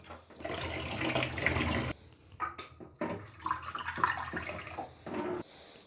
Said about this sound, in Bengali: ছাঁকনিটাও ধুতে হবে।